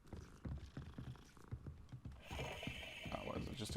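A cat purrs in Hogwarts Legacy, a soft low rumbling purr in short pulses, then blending into brighter game ambience.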